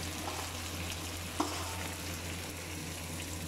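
Onion cooks in hot oil in a pan of okra masala with an even, moderate sizzle, a low steady hum underneath and one brief clink.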